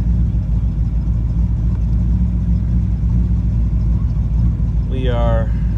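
A restored 1974 C3 Corvette V8 idles with a lumpy, rhythmic cam-overlap lope, loud and close throughout, and a person speaks briefly near the end.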